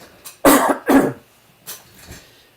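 Two sharp, close coughs in quick succession, followed by a softer third cough after a short pause.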